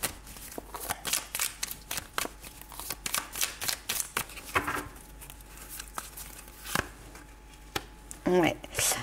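Tarot cards are shuffled and drawn at close range, making quick papery riffles and flicks in a brisk, uneven rhythm, with someone speaking French between the bursts.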